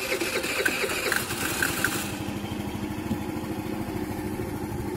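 A Racer Corvus 50 motorcycle engine starts and settles into a fast, rapid-ticking idle, a close mechanical chatter with brief higher-pitched rattles early on and no talk over it.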